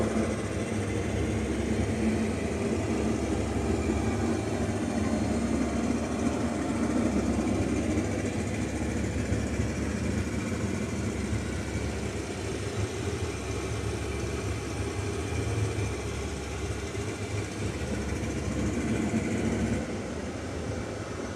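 Loud, unbroken engine roar fills the cabin of a PBJ bomber aircraft in flight, a steady droning rumble with no letup and no voices.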